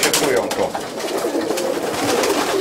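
Pigeons coo and shuffle inside their new loft, soft close calls and fluttering under a dense, busy room sound, with people talking nearby.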